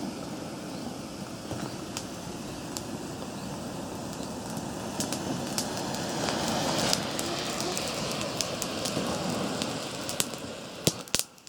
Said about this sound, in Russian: Закладываем под дрова и поджигаем.